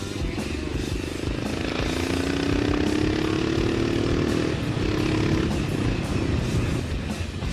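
An old Kawasaki KLR motorcycle engine runs loud and steady, a continuous mechanical drone with a rising whine partway through as the revs climb and then settle.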